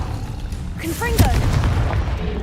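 A Confringo blasting spell in Hogwarts Legacy bursts with a booming impact and a sparkling magical whoosh, mixed in with a voice and game effects.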